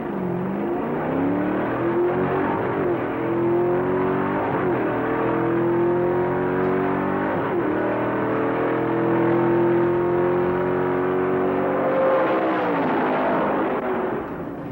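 A drag car engine revs and accelerates off the start line, a loud continuous roar with rising pitch that climbs steadily over several seconds, pausing briefly for gear shifts, with no talk over it.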